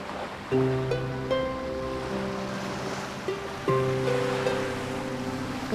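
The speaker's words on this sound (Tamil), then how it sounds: "கடல் பார்க்க அவ்வளோ பிடிச்சிருக்கா" Sea waves wash in a continuous broad hiss, with soft swells, beneath gentle melodic background music in a seaside scene from the Tamil TV serial Raja Rani Season 2; no one speaks.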